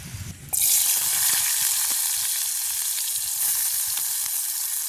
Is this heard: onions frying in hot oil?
yes